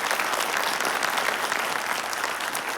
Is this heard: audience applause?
yes